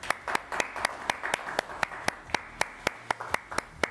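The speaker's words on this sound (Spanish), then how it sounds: "Un aplauso para Jorlean, por favor." A small audience at a cultural TV programme claps slowly and in unison, sharp regular claps evenly spaced about four times a second, fairly close and distinct over a faint background.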